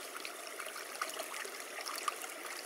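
A forest stream where wild leeks are rinsed, with a steady broadband trickle and burble of running water close by, alone and without speech.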